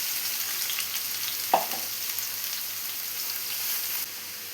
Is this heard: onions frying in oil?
yes